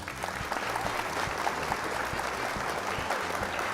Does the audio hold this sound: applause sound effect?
yes